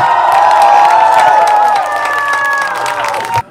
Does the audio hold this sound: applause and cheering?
yes